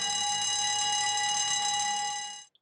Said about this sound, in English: an evacuation alarm will be triggered from the weighbridge, which sounds like this